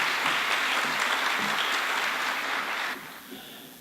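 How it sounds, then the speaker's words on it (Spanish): Audience applause at a forum on the Panama Canal expansion, a dense steady clapping from a crowd that continues for about three seconds, then drops away abruptly with a few scattered claps left. "Recibámoslo con un fuerte aplauso, por favor."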